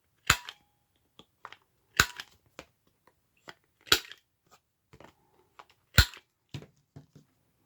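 A handheld corner rounder punches through paper corners with sharp, crisp snaps at roughly two-second intervals, each followed by smaller clicks of handling, close and isolated in a quiet room.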